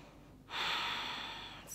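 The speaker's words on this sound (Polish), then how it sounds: "Głęboki oddech." A deep breath drawn in during a yoga hip-opening flow: one long, close, airy inhalation that swells quickly and holds steady for over a second, with no talking.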